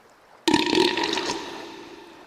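A cartoonish monster lets out a loud, wet burp that starts abruptly and gurgles on for nearly two seconds before fading.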